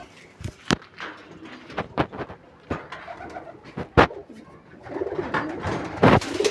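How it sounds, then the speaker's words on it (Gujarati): Pigeons cooing at their feeding spot, repeated soft throaty coos and wing flutters at close range, with a few sharp knocks and rustles in between. "પહેલાં તો આપણે કબૂતરને ચણ પાણી નાખી દઈએ"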